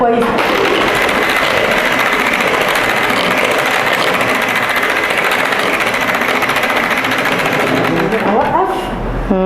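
An electric hand mixer beats shortbread (sablé) cookie dough in a bowl, a loud steady motor whir that runs without pause for several seconds before slowing and stopping near the end.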